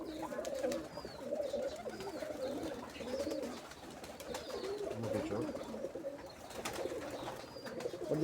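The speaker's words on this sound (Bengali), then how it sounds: "এই যে লাল পিলং একটা কবুতর দেখেন" Giribaz pigeons in Rajshahi coo in repeated low rolling phrases, fairly close and continuous, with faint chirps in the background.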